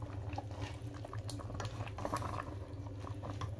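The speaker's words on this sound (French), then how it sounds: "Je ne referme plus la sauce, je vais la laisser cuire" Okra sauce with spinach leaves bubbling uncovered in a pot, a soft continuous simmer of small pops and gurgles, fairly quiet and close, with no talking.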